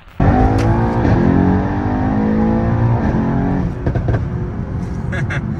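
A Mercedes CLS engine revs hard and holds a loud, steady, rising drone while racing other cars, with shifts in pitch partway through and faint voices mixed under the engine noise.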